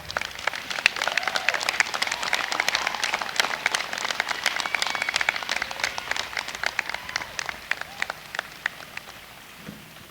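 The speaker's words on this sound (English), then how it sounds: "please applaud them" Graduates at a 2019 Rowan commencement for the School of Osteopathic Medicine applaud their families, a dense, steady crackle of many hands clapping that fills the hall and tapers slightly toward the end.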